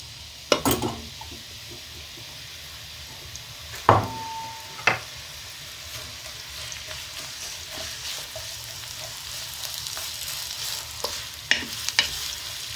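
Onions cook gently in a pan, a soft continuous sizzle under occasional sharp clinks and scrapes of a utensil stirring against the pan.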